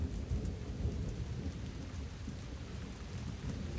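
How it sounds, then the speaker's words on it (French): A wind-driven rainstorm on an exposed plateau makes a dense, continuous rush of rain with low rumbling gusts, steady and fairly loud, without voices. "Les Anglais lui dessinent le plateau de Longwood, fouetté par le vent et la pluie"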